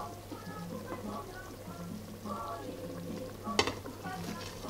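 A pot of ngai ngai ya musaka, cassava leaf stew, cooks with soft simmering and sizzling as remaining ingredients are added and stirred, a brief clatter near the end, with a low background hum.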